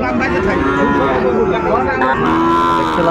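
A Sahiwal bull calf lets out a loud, drawn-out moo that carries close and continuously from start to finish.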